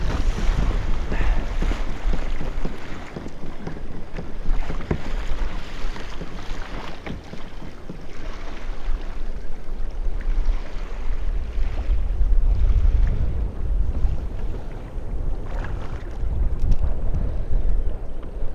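Strong wind blows steadily around a kayak on the ocean during surf fishing for albies and stripers, a loud continuous roar of gusts and microphone buffeting mixed with water slapping and surf, with no talk.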